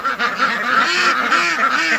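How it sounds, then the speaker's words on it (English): A flock of about 71 penned ducks quacks and honks constantly at close range, a dense, noisy chorus of overlapping calls with no pause. "trying to corral 71 ducks if they were all of a free mind and spirit"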